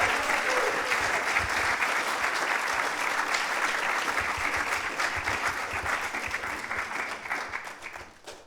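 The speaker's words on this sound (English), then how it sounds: "how about one more round of applause for our amazing band" An audience applauds a band at a new music salon: a full, sustained wash of clapping from a crowd, loud and steady for most of its length before it thins and fades near the end.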